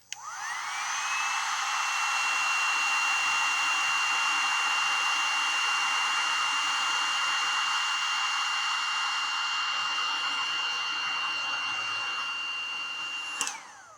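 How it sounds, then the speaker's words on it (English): A heat gun runs for about ten seconds, starting with a quick rising whine into a steady, loud blowing roar with a high tone, then cutting off with a click near the end. "I'm going to run this heat gun right here for 10 seconds"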